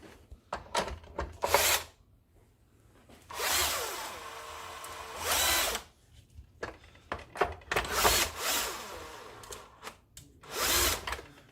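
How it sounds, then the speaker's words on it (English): An electric screwdriver drives nuts on a Robo-Plus track in several separate bursts of close whirring, each a few seconds long, broken by quiet pauses and small handling clicks. "I like to use an electric screwdriver."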